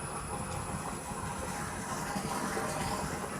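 Water runs out of an open tap while a household water tank is drained for cleaning. It makes a soft, steady, rushing stream that stays fairly faint and even throughout.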